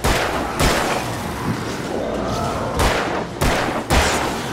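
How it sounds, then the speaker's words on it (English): Fireworks going off in the video game Alan Wake, a loud series of sharp bursts and booms, about five cracks spread irregularly over a rumbling, crackling background. "Fireworks!"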